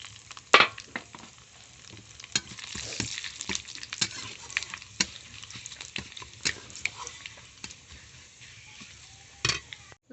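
Garlic frying in oil with five-spice seeds crackles and sizzles steadily throughout, with scattered pops and the scrape of a spatula stirring the pan, close and moderately quiet.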